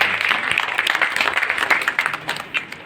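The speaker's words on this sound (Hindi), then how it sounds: "प्रोग्राम के चीफ गेस्ट मंजू गुप्ता जी के लिए मैं एक बार जोरदार ताली चाहता" An audience applauds the chief guest at a World Health Day 2022 celebration in Jaipur: dense, fairly loud clapping rolls on steadily with scattered sharper claps and no talk.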